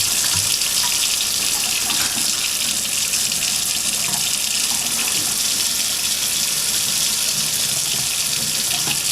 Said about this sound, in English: let's head upstairs to my kitchen sink and take a look at my faucet